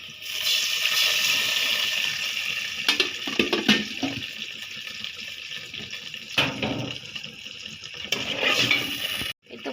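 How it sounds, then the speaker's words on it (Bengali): Water splashes and hisses into a hot frying pan of onions, followed by scattered clinks and stirring of cookware up close. "এখানে একটু পানি দিয়ে দিই"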